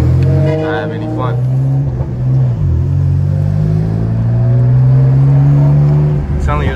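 A tuned BMW M3 engine holds a loud, deep, steady rev that rises and hangs close by, cut by short throttle blips at the start and end.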